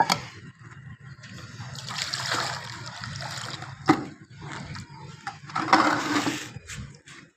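Water pours and splashes while chickens are given drinking water in a backyard coop, an uneven running splatter with a few louder splashes near the middle and toward the end.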